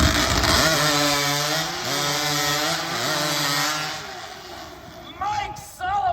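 A loud saw engine roars and bogs as it cuts timber discs at a lumberjack competition, pitch shifting under load, with an announcer talking over it and a crowd in the background.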